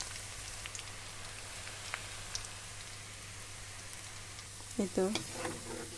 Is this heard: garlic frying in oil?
yes